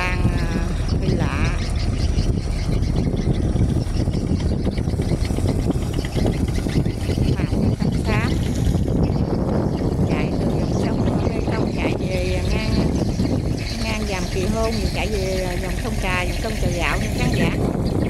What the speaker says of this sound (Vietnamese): Tới đây có chiếc ghe chở lúa chạy kín mít luôn nha khán giả